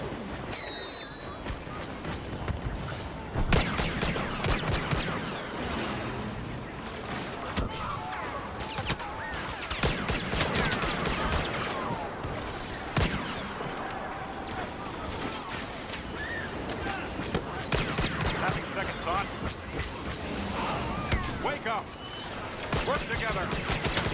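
Blaster gunfire in the Star Wars Battlefront video game, dense rapid zaps and bursts overlapping with explosions and game effects, continuous and loud throughout, with voices mixed in.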